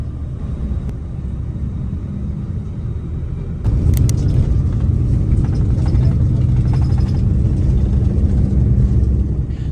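An intercity bus drives on an East Java road out of Blitar, giving a steady low engine and road rumble throughout that grows louder partway through, with faint higher rattles on top.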